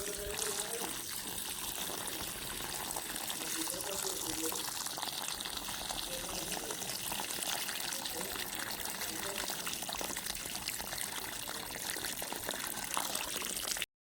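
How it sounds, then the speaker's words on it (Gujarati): Water flowing slowly out in a field for watering plants, a steady close hiss and trickle running throughout with faint voices briefly underneath near the start. "પાણી બહુ ધીમું આવે"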